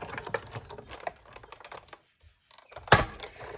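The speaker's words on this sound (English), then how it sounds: "Don't worry about the big clicking noise, it's just as it runs over the edge of the plate." A die-cutting machine runs a plate through for a leaf window card, giving a rapid series of close mechanical clicks and ticks, then a short pause and one loud sharp click as the plate edge passes.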